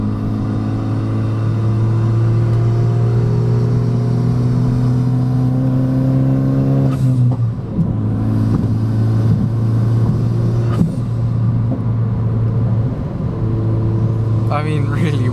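Renault Megane RS engine under way on a canyon road, a steady loud droning hum with a pitch drop near the middle as it shifts, then holding a constant tone, no talk.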